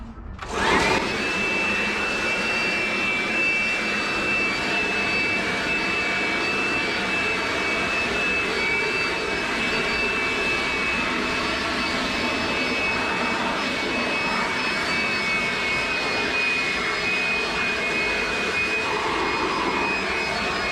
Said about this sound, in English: I'll go borrow my dad's leaf blower.